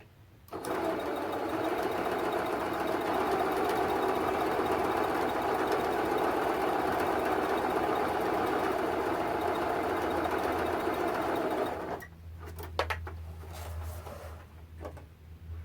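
A sewing machine runs steadily for about eleven seconds, stitching a foundation paper pieced mug rug with a fast, even mechanical whir close by, then stops, followed by a few handling clicks and a low hum.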